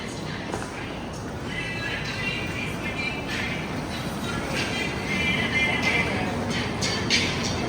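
A passenger train rumbles along the rails with a dense, steady roar and faint rhythmic clatter, heard close and continuous with no voices.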